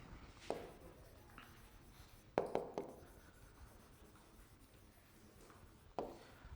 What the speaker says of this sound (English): let me quickly write here.